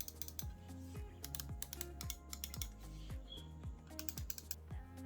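Button clicks on a Logitech M720 mouse, a series of crisp, close clicks in irregular quick pairs and clusters, fairly quiet, with no talking.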